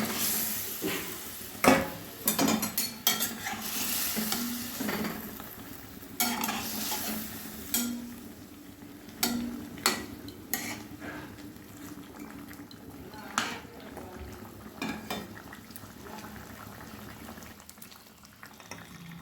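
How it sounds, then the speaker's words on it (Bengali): Pieces of mrigal fish go into a boiling curry broth in a home kitchen, giving bursts of splashing and bubbling sizzle, with clatters of stirring and handling in irregular clusters over a continuous simmer. "এবারে ঝোল ফুটে এসছে, মাছগুলো আমি দিয়ে দিলাম।"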